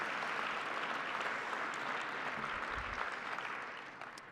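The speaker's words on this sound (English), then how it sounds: "Let's give them a round of applause." An awards luncheon audience at a satellite industry show applauds steadily. The clapping is thick and continuous, then tapers toward the end.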